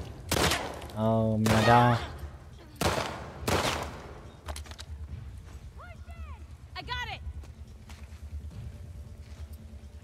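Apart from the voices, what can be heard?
gunfire from all directions in The Last of Us Part II, video game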